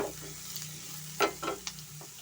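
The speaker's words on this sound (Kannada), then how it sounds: "ಸ್ವಲ್ಪ ಫ್ರೈ ಮಾಡ್ಕೊಳ್ಳೋಣ" Vegetables including carrot and knol-khol frying in a pan with salt, a low steady sizzle broken by a few quick stirring scrapes.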